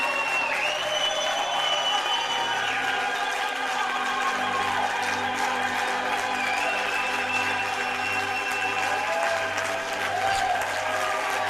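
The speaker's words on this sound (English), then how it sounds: "The audience applauded vigorously" An opera audience applauding vigorously at the end of a performance, a dense, steady wash of many hands clapping that stays loud and even throughout, with faint whoops in the mix.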